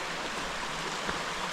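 Spruce Creek on the Superior Hiking Trail flows as a steady, broadband rush of water, even and continuous for the whole stretch with no voices over it.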